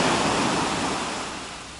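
Sea surf washing onto a sandy beach at a Lara, Antalya resort in Turkey, a steady broadband roar of breaking waves, loud and close, slowly easing off with no talking.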